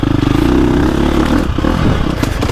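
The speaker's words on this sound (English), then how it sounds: "I'm lugging it in second, covering the clutch" A KTM 350XCF dirt bike lugs in second gear on a woods trail, its engine a loud, steady, low-revving drone with rough clattering pulses that continue without a break.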